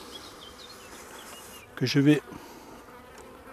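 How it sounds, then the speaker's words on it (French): Honeybees buzzing in a hive frame as a beekeeper shakes them off at an apiary, a brief louder swell of humming in the middle over a faint steady drone, with a quiet voice nearby. "Hop, je fais tomber les abeilles."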